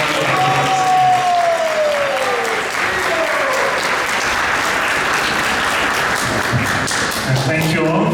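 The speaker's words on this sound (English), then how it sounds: "Can we give a big round of applause?" A crowd at a Krishna Balaram Jayanti celebration at ISKCON Toronto breaks into sustained applause, dense clapping throughout, with a voice briefly audible over it.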